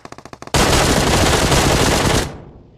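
Gunfire in the PUBG Mobile video game: a quick series of separate loud shots, then a dense, sustained burst of automatic fire that cuts off sharply, very close and loud.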